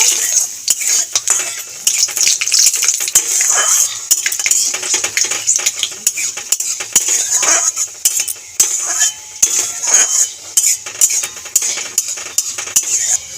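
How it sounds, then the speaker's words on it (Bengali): Metal utensils scrape and clink steadily in a pan over a bright, crackling sizzle of radhuni and fenugreek seeds frying in oil, with no voices. "নেড়ে ছেড়ে ফোড়নটাকে ভেজে নেব"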